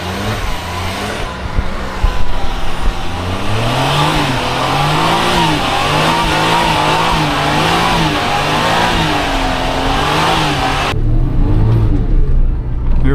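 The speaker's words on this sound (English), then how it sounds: "That little turbo sounds sweet though." A small turbo engine in a Suzuki Jimny JB23W revs up and down in a wavering rhythm, a close, busy mechanical drone with a whistling turbo edge.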